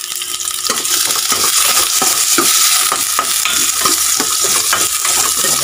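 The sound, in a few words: sautéing food in a pan, stirring and sizzling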